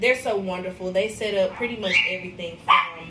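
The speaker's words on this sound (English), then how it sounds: "excuse my dogs" Several household dogs bark and yip close by in short repeated bursts while a person keeps talking over them.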